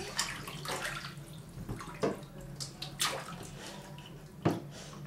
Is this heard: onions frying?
no